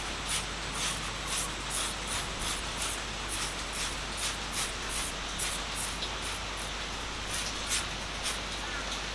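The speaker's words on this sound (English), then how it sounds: "So a couple shakes of the bottle and a few squirts." Wheel cleaner is squirted from a spray bottle onto cold car wheels in a rapid run of short, crisp hissing bursts repeating steadily over a constant low background hum, fairly close and moderately loud.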